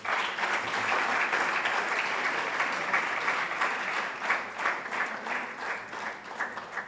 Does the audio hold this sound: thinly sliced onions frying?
no